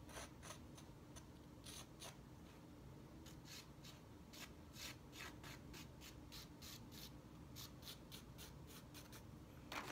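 A drawing tool rubs and scratches across canvas in a steady series of short, soft strokes, close and quiet, with no talking.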